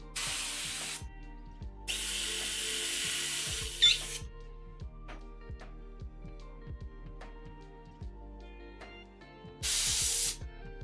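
An airbrush sprays poison green paint onto an armor corset, giving three bursts of steady airy hiss, the middle one longest, over quiet background clicks and taps.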